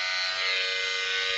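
An electric razor buzzes steadily and close by, shaving a head at a St. Baldrick's charity shave event, heard alone in a brief continuous hum.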